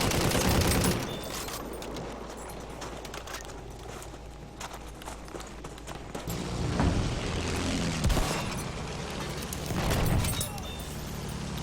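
Aircraft strafing-run gunfire in Battlefield 1 during a competitive match: bursts of rapid shots and booms over a continuous roar of battle, with several louder volleys rising and falling across the stretch and no speech.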